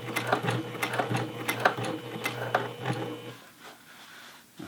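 Sewing machine stitching through thick denim flat felled seams on the back crotch of jeans, a rapid rhythmic needle chatter with sharper thumps as it crosses seams, close and steady before stopping near the end.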